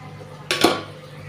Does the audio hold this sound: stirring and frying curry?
yes